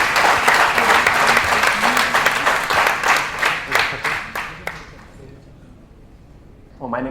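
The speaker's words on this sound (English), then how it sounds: "Can we have a round of applause for Thomas" A conference audience at an AWS community day in Kochi breaks into loud, dense applause for a sponsor speaker. The clapping thins and fades after about five seconds into quiet room tone, and a voice begins at the end.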